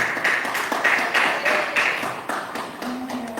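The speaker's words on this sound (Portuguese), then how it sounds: "A igreja pode sentar e bater as palmas mais alegres para o Senhor Jesus" A church congregation claps joyfully in praise of Jesus, a dense wash of many hands with steady rhythmic surges, fairly close and loud, with a faint voice or tone near the end.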